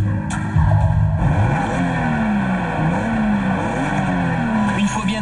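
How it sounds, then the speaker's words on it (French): Turbocharged three-litre six-cylinder engine of a BMW Z4 Coupe pulling through revs with sweeping pitch rises and falls, loud and near, with a voice talking over it. "le 6 cylindres s'anime pour laisser échapper une sonorité envoûtante"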